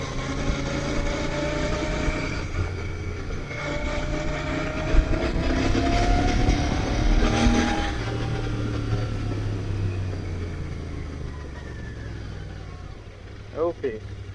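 A Royal Enfield Continental GT650 motorcycle is ridden on a quiet road, its engine and exhaust giving a steady, rumbling drone with rising and falling pitch under continuous talking.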